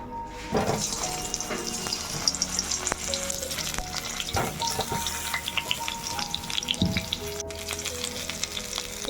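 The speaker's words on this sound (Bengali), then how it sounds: "ভাজার তেলের মধ্যেই আমি দিয়ে দিলাম আলুগুলো" Loud, crackling sizzle of potatoes frying in hot oil in a wok, with occasional clinks and stirring noises throughout.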